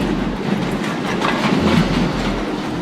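A railcar rolls along the rails with a loud, continuous rumble and steady rattling clatter of wheels over track, close by and unbroken throughout.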